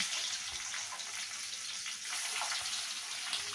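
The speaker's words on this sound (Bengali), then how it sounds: "বাকি মাথাগুলোও ভেজে নেব।" Fish heads fry in hot oil for a Bengali fish head curry, giving a steady, close, dense sizzle and hiss that runs without a break for the whole stretch.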